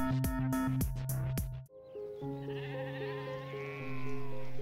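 Sheep bleat loudly and close, with a run of short bleats followed by one long wavering call.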